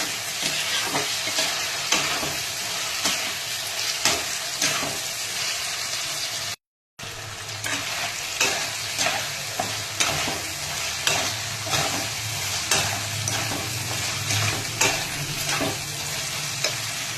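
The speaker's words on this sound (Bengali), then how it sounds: "এবার এটাকে নাড়তে হবে। আদা রসুনের পেস্টের যে কাঁচা গন্ধটা সেটা যাওয়া উচিত।" Ginger-garlic paste fries and is stirred in a pan for Punjabi pindi chana, giving a steady close sizzle with regular scraping strokes throughout and one brief silent gap, no talking.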